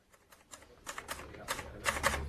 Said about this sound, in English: He was typing out his report.